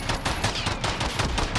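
Rapid gunfire from a Roland Special Glock fired without its muzzle brake in the video game Modern Warfare, a dense, loud burst of shots in quick succession lasting the whole moment.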